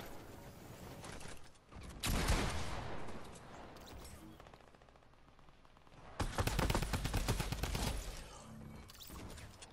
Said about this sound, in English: He pulled out the SMG quick on me, huh?